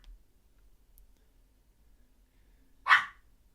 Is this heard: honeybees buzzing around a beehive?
no